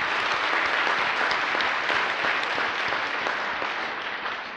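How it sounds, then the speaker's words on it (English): An audience claps in a dense, steady round of applause at a retreat session, sustained throughout and tapering slightly at the end, with no talking over it. "Let's give help. them a nice round of applause"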